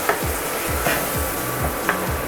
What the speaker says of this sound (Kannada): ಖಾರದ ಪುಡಿ ಹಾಕಿದ ತಕ್ಷಣವೇ ನಾವು ರುಬ್ಕೊಂಡಿರೋ ಮಸಾಲ ಅದಕ್ಕೆ ಹಾಕ್ತೀವಿ. ಹಾಕ್ಬಿಟ್ಟು ಚೆನ್ನಾಗಿ ತಿರುಗಿಸ್ಕೊಂಡು